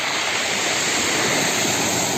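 Ordinary sea surf along the French Riviera coast, a steady broadband wash of waves rolling on without a break, fairly loud and even throughout, with no voices.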